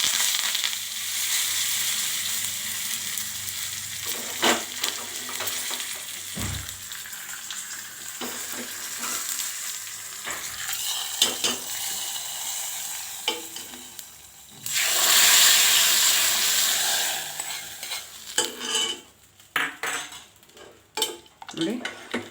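Curry leaves and asafoetida fry in a hot oil tempering for a bottle gourd kootu, giving off a sizzle that flares loudly midway. Utensil clinks and scrapes come and go, and a voice speaks briefly.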